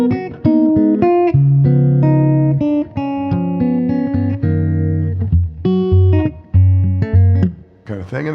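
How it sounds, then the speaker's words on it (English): A Telecaster electric guitar on its middle pickup with a mellow jazz tone plays single notes and chords, loud and close, with clean sustained tones and short gaps. "when you do that, then the middle position sounds like this."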